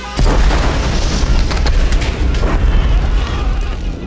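A huge bomb blast in an action film, a loud, deep boom with a rumbling, crackling roar that fills the whole clip and barely fades.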